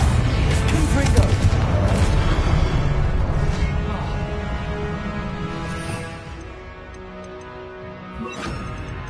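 Confringo blasting-curse explosions from the Hogwarts Legacy game, with a deep rumbling boom and crackling debris that hold loud for several seconds and then fade, while a voice speaks over the noise.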